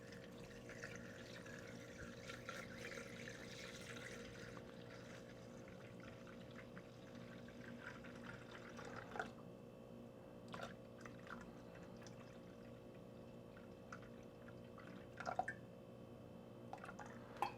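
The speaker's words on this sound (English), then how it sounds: "I've got some water here, and I'm ready to add, so I'm just going to start adding until we get to 34 ounces" Water poured into a Thermomix TM6 bowl up to 34 ounces, a soft, faint continuous trickle with occasional drips and small splashes, close by and without talk.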